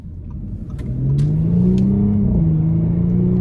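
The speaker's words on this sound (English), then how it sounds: "the exhaust sounds fantastic" A 2018 Audi S5 Sportback's engine and exhaust rise from a low rumble into a strong revving climb as the car accelerates on the road, heard close from inside the cabin.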